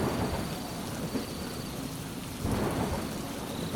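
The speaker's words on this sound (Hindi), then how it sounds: "बारिश थमने का नाम नहीं ले रही थी।" Heavy nighttime rain pouring steadily in a small village, a dense constant hiss with low rumbling thunder swelling in the background at a couple of points.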